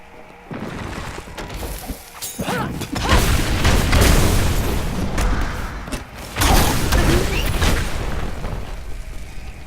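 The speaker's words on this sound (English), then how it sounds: "You too can have some explosions." Several loud explosions go off in the action RPG Diablo 3 amid dense fight noise. The blasts come in heavy waves, with one strong burst partway through.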